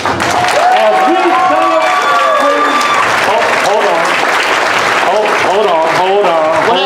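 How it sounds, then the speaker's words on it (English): Loud, sustained applause fills an awards-ceremony hall, with cheering voices and shouts rising over the dense clapping from start to finish. "give us a thunderous applause"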